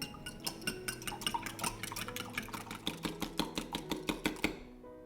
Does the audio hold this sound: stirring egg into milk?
yes